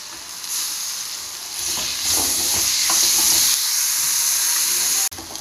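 Tomatoes dropped into a hot, sizzling pan of masala for a Hawaiian crab roast give a loud, continuous steamy hiss that intensifies after a moment, then cuts off sharply near the end.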